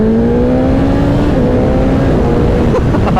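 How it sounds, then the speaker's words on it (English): BMW S1000XR inline-four motorcycle engine, 2023 model, running loud and close with a steady droning tone that rises slightly in pitch, no talk. "This is the BMW S1000Xr engine."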